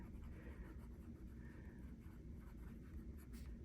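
A TWSBI Eco broad nib fountain pen scratches faintly across paper in short, soft strokes, quiet and close.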